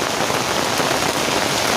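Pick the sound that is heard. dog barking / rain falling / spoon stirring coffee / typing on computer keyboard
rain falling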